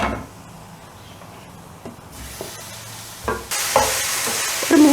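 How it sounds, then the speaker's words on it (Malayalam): Chicken added to browned onions and turmeric for chicken Chettinad sizzles loudly in a pan on high flame, the frying hiss swelling abruptly partway through as a spatula scrapes and stirs. "അതിന് ശേഷം ഹൈ ഫ്ലെയിമിൽ വെച്ച് ഈ ചിക്കൻ ഇതിലേക്ക് ആഡ് ചെയ്യുന്നു."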